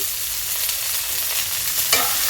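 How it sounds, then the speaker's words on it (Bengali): Turmeric, chili powder and salt fry in a pan while being stirred, producing a loud, continuous close sizzle with faint scraping throughout. "দিয়ে আমি ভালো করে নাড়াচাড়া করে নিলাম"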